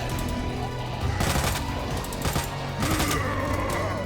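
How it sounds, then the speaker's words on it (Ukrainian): Rapid bursts of gunfire in Resident Evil 2, with three louder volleys punctuating a continuous layer of game sound effects and music. "Бо я все время тільки в голову стріляю."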